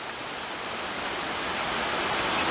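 Steady, dense rain falls in Pasadena, Maryland, producing a continuous loud hiss with no break and no voices.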